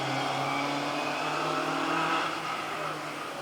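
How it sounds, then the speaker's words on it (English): Rally car engine revving loudly at a Mull Rally stage, a sustained roaring drone that holds steady near and loud for the whole stretch with a slight swell in the middle. "the noise of these cars is unbelievable"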